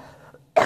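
A sick person gives a single sharp, close cough that bursts out loud after a short faint murmur.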